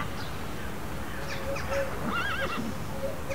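A horse whinnies in a few rising and falling calls over a steady outdoor background hiss, moderately close, with faint hoof clops and other animal sounds around it.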